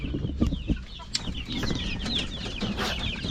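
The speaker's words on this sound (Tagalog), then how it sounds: "Yung mga decal white ko na alagang manok." Several white chickens cluck and murmur close by while eating, with soft chirps and brief pecking sounds over a steady farmyard background.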